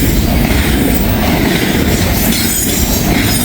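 A loud freight train with DPU locomotives passes close by in Walton and Richwood, Kentucky, its wheels rolling in a steady clickety-clack and squealing on the rails, filling the whole stretch with dense, continuous noise.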